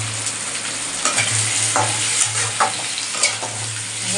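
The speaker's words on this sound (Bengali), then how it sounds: "এটাকে ভাজা ভাজা করে নেব" Potatoes fry with turmeric in a pan, giving a steady close sizzle with scraping stirs that break in at intervals.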